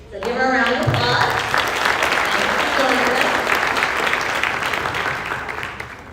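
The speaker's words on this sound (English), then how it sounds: "So give her a round of applause." Audience applause at a high school ninth-grade family orientation, loud and sustained broadband clapping from a large crowd, with some voices mixed in and tapering slightly at the end.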